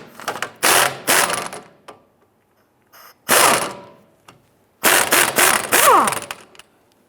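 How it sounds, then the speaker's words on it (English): A ratchet with a 19mm deep socket loosens a sway bar link nut on a 2005-2010 Chrysler 300. It gives loud, close bursts of rapid metallic clicking, separated by pauses. "Using a 19mm deep socket, we're going to go ahead and loosen and remove this upper nut."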